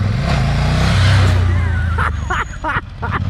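A Ducati Scrambler motorcycle revs during a wheelie attempt, its engine surging loud and close and then breaking into choppy bursts, with someone talking over it.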